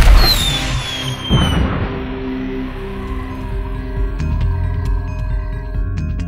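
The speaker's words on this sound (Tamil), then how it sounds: "நாம எல்லாரையுமே எச்சரிக்கிறதுக்காக இந்த வெடியை வெடிக்கிறேன்." A loud firecracker bang in an animated cartoon opens, followed by a ringing, fading tail and scattered sharp crackles over a lingering tonal hum.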